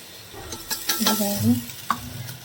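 Yogurt frying and being stirred into biryani masala in a pan, a soft sizzle with scraping stir strokes repeating irregularly up close, no talking.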